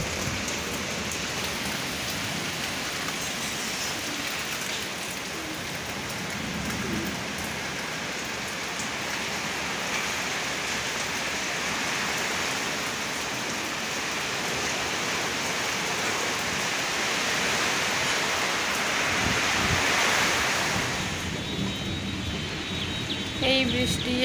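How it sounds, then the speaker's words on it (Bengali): Heavy rain pours steadily during a storm, a dense close hiss that swells slightly near the end and holds at an even loudness, with faint voices underneath. "তো একবার বৃষ্টির শব্দটা শুনো তোমরা"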